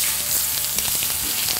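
Steak sears in oil in a hot cast iron pan, a loud, constant sizzle dotted with sharp crackles and pops, with no talking.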